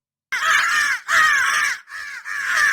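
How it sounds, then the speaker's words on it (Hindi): Several crows caw harshly as a flock lifts off together, used as a sound effect in a spooky story: three loud, close, drawn-out calls overlapping in quick succession, with no voices. "सारे कौवे एक साथ उड़ गए।"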